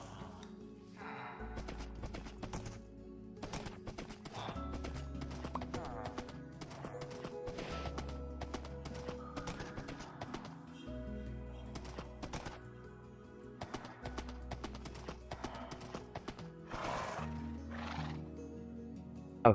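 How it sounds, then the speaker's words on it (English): A horse in a Minecraft large-biomes world runs steadily, its hoofbeats and occasional whinnies and snorts sounding close over looping game music, with no one speaking. "Yeah, I think this horse is fast enough."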